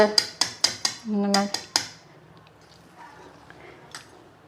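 A whisk beats wheat flour batter for sweet bonda in a metal bowl, giving a quick run of bright ringing clinks that stop after a couple of seconds, leaving near silence.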